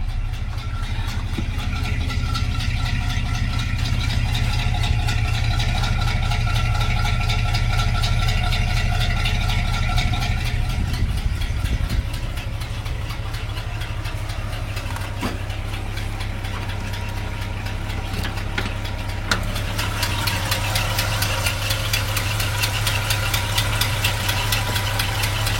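A car engine with a Quadrajet carburetor and a small exhaust manifold leak idles steadily and close, with a low rumble and a faint ticking, and its note shifts lower partway through.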